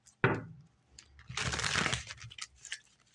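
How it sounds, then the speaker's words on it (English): Tarot cards being shuffled: a sharp riffle snap near the start, then a longer crisp flurry of card shuffling in the middle, close and moderately loud, with a few softer handling rustles after. "One more shuffle."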